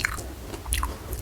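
Crispy salted fish being bitten and chewed at close range, with a few quick crunchy bites over a short stretch, set at an Indonesian meal with sambal goang and stir-fried water spinach.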